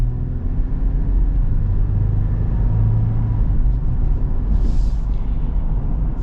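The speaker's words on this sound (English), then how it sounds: "gotta love that 4-liter V6. So we're gonna get kind of our little acceleration here." Inside a 2023 Toyota 4Runner SR5, the 4-liter V6 pulls at partial throttle, giving a steady, loud low rumble of engine and road noise that rises gently in pitch, with no talking over it.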